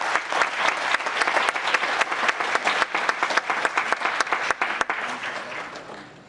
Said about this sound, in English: Let's give a round of applause for the Raiders.